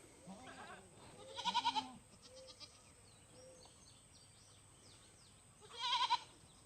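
Goat bleats ring out twice, loud and close, with quieter calls and faint outdoor background in between.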